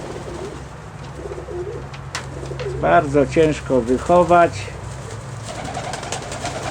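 Russian Statnyje pigeons coo in a loft among rhododendrons and azaleas, a short run of rhythmic, fairly close throaty calls in the middle, with someone speaking before it and a low steady background hum.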